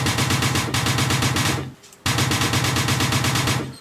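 Rapid automatic gunfire in a military video game, two long sustained bursts of fast rhythmic shots, loud and close, separated by a brief pause.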